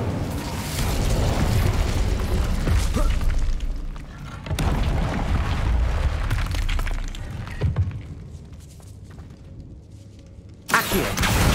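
The Incendio fire spell goes off in the Hogwarts Legacy video game with a booming whoosh and crackling burst. Loud blasts come back again and again with short quieter gaps, and a final sharp burst ends it.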